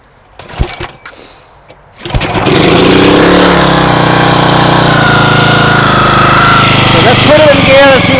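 A homemade outboard motor built from a lawn mower engine: a few knocks and handling noises, then at about two seconds the small engine roars to life and runs loud and steady, close by, with a buzzing drone.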